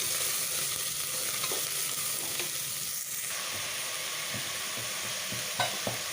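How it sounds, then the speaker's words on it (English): Chopped vegetables and a handful of mint frying in a pan for an Anglo-Indian brown stew, giving a steady, close sizzle with occasional stirring scrapes and no talk. "As this is frying, I've chopped up a handful of mint. Put that in as well, and let that fry too."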